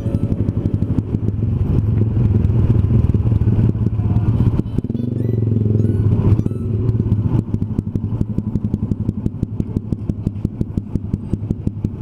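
A Yamaha 135LC motorcycle runs just after a clutch plate change, its engine close and loud with a rapid, clattering putter that swells briefly as it revs mid-clip, then settles back to a steady, ticking idle-like beat.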